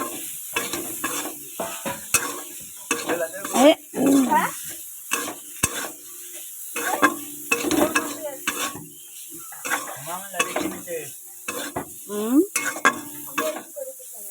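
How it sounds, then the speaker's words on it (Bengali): Green cauliflower frying in a pan, stirred with a utensil: repeated scraping and clinking strokes over a steady near sizzle, with brief pauses between bursts of stirring. "এটাকে আমি সুন্দর করে নেড়ে ছেড়ে এটাকে নাড়াচাড়া দেব যেটি হোক এটা আমার পুরো ভাজা হয়ে গেছে"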